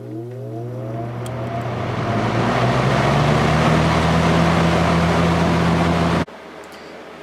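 A vintage Kel Aire box fan runs on high speed with a steady, loud whoosh of moving air over a constant motor hum, then cuts sharply to a quieter level near the end.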